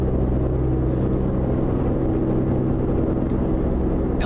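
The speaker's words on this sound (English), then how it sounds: "I think that's the same sound mod for engines that John Ruda uses" A Peterbilt 389 truck engine with an engine sound mod in American Truck Simulator: a loud, steady, deep diesel rumble drones throughout with no change in pace.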